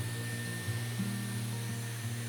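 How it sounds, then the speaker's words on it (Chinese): A hair dryer blows hot air onto pork knuckle skin, a steady close whirring hum with slight pitch shifts as it moves; no talking. "用电吹风来给它做个 SPA"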